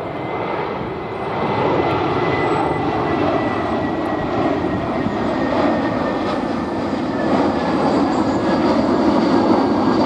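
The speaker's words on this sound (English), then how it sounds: "And here we have a British Airways A321 again." A British Airways Airbus A321 at Heathrow, its engines giving a loud, steady roar that swells slightly and holds throughout, with no voices.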